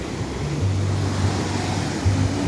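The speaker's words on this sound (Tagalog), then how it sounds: "Lakas po ng dagat, pero ang sarap maligo dito." Strong sea waves washing onto a beach, a steady broad roar of surf with wind buffeting the microphone, continuous and loud with no one talking.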